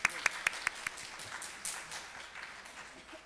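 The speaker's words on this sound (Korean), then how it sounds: "우리 큰 박수 한번 드리니까요." A few sharp claps open the moment, then scattered applause rises from a congregation at an Easter sunrise church service, modest and somewhat distant, fading out within a few seconds.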